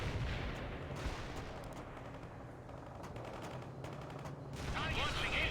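Gunfire at a target in the real-time strategy game World in Conflict, with dense, rapid bursts and volleys of shots rattling continuously and growing heavier toward the end.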